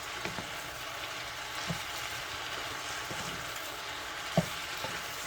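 A pot of shrimp, sausage and cabbage with peppers sizzles in a soft, steady hiss while a utensil scrapes and knocks against it a few times, one clack sharper than the rest; no one talks.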